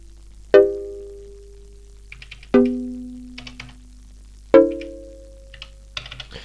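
Three synth chord stabs from an Elektron Analog Rytm drum machine, each a sharp attack decaying over about a second, spaced evenly apart with faint clicky percussion ticks between them and a low steady hum underneath; no voices.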